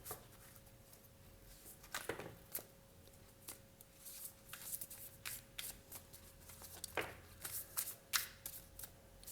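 Tarot cards are shuffled by hand in quick, soft riffles and flicks, with sharper snaps here and there, fairly quiet and close, with no talking.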